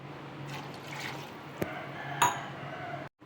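Water poured into a pot while cooking vegetable biryani, a soft trickling and splashing for a few seconds with a couple of small clinks.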